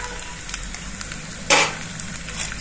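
Cumin seeds and two broken green chillies hit hot oil in a pan, giving a steady crackling sizzle with a sharp burst of spitting partway through, close and alone.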